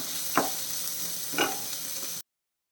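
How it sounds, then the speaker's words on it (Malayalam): Shallots with salt sautéed on a medium flame give a steady close sizzle, broken by two distinct spatula scrapes while being stirred, then cut off abruptly. "ഇളക്കി കൊടുക്കാം മീഡിയം ഫ്ലെയിമിൽ വെച്ചിട്ട് ഇത് നല്ലപോലെ ഒന്ന് വഴറ്റിയെടുക്കാം"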